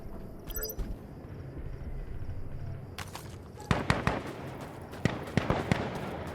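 Sharp gunshots in the tactical shooter Insurgency: Sandstorm, a scattered run of loud cracks in the second half at close to mid range, with quieter game ambience before.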